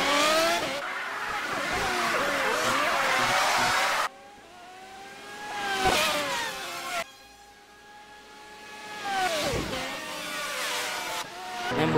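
Race cars in the Project CARS video game, with loud engine revving and shifting, rising and falling pitch as cars accelerate and pass, brief tire squeal, and abrupt cuts between segments.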